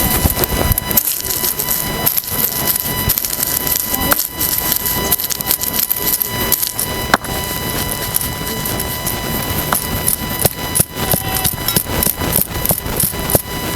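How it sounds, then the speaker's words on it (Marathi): Peanuts being crushed for a spicy ridge gourd curry, a steady run of loud, dense pounding and crunching strikes with irregular sharp thuds throughout. "आता शेंगदाण चितून घेऊया"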